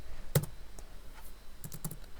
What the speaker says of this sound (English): I can use the keyboard.